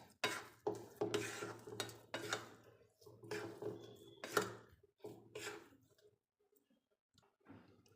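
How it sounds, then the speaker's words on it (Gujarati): Roasted flour and jaggery sukhdi mixture stirred in a pan at home, a series of close scraping and clinking strokes in uneven bursts that thin out toward the end. "આ રીતે બધી સુખડીને મેં મિક્સ કરી લીધી છે"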